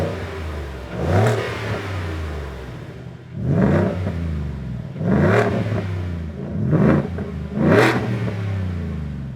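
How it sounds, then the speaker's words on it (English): Supercharged Coyote V8 in a 650 hp 2019 Roush F150, revving through a stainless dual-tip active exhaust, with four loud, throaty blips spaced a couple of seconds apart, each rising sharply and settling back to a rumbling idle. "one big thing this truck is equipped with is the full stainless dual-tip active exhaust system from Roush"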